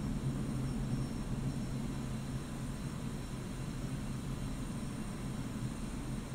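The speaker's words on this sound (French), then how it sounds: "On va déployer les aérofreins." Steady, loud jet engine roar of a Su-25T attack aircraft with its air brakes deployed in the DCS flight simulator, a continuous broadband rumble with a low drone and no talk.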